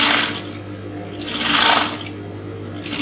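A sewing machine whirs steadily up close while stitching a corset boning channel, its motor hum rising and falling in brief surges, with someone speaking over it.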